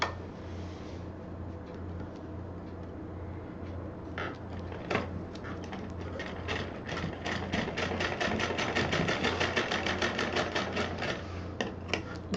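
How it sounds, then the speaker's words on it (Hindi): A sewing machine stitches a fabric purse piece, starting slowly with scattered clicks and then running into a fast, steady rattling rhythm over a low motor hum, close by. "तो इसको पहले हम सिल के इसका काम ख़त्म कर देते हैं।"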